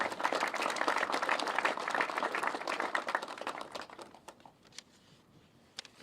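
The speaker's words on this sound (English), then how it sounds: "we applaud you" Audience at an airport expansion announcement applauds in a dense wash of clapping for about four seconds, then thins to a few scattered claps.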